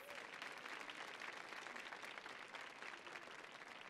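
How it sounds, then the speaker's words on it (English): Audience applause at a World Bank Group panel event, a steady dense wash of clapping from a large room that holds at an even level throughout, fairly soft and distant. "Can we give her a round of applause"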